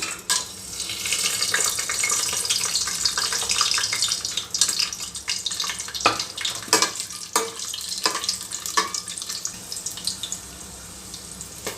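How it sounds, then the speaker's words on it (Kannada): Whole spices hit hot oil in a pan, giving a steady loud hiss and crackle that runs throughout, with a few sharper pops and scrapes near the end. "ಎಣ್ಣೆ ಕಾದಿದೆ ಮಸಾಲೆ ಪದಾರ್ಥ ಹಾಕ್ತಾಯಿದ್ದೀನಿ"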